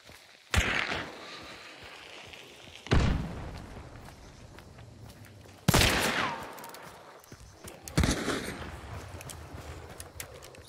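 Gunfire in the Hunt: Showdown video game, four separate loud shots or bursts spaced a few seconds apart, each with a ringing echo over low ambient rumble, no talk.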